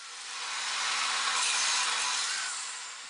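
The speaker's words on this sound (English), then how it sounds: "Now we go to the upright belt sander to do the final shaping and a bit of a polish." An upright belt sander grinds steadily against a wooden ball-head war club being shaped and polished, a loud continuous abrasive whir that swells in the middle and eases off toward the end.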